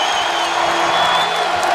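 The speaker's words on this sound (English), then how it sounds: "the Wichita State portion of the crowd trying to get the Shockers going" Wichita State fans cheering in a packed arena during a 2015 NCAA men's basketball tournament game against Kansas, a steady loud roar of crowd noise with whoops throughout.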